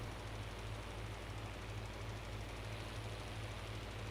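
A tractor engine idles steadily in Farming Simulator 19, a low, even mechanical rumble with a constant drone that holds unchanged throughout, with no talking.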